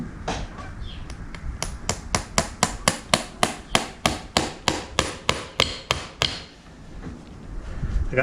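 A hammer drives a nail into a horse's hoof wall during shoeing, sounding as a steady run of about fifteen sharp, evenly spaced close taps that then stop.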